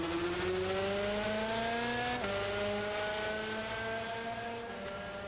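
A racing car engine in Gran Turismo 7 drones steadily at high revs, then a sharp blip as it downshifts and the pitch steps down, settling into a lower steady hum; moderately quiet, no talk.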